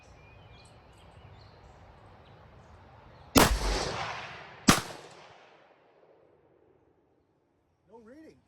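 Two loud, close gunshots from a Mossberg Predator 556 rifle fired outdoors at a target, about a second apart, each cracking sharply and rolling off into a long fading echo, then near silence.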